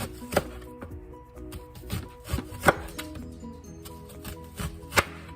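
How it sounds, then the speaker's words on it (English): A knife slices a peeled medium-to-large onion on a board, producing a series of irregular, crisp cutting thuds, some louder than others, close and without talk. "And then I take it and slice it into long slices."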